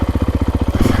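A Husqvarna FE450 four-stroke dirt bike engine with a slip-on exhaust thumps in a rapid, even pulse, then briefly revs up near the end, loud and close.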